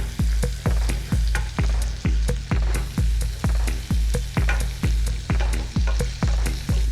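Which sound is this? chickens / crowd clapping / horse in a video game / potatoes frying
potatoes frying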